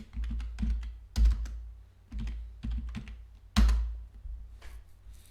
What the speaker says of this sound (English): I'm going to come here now to the browser, and I'm just going to type where am I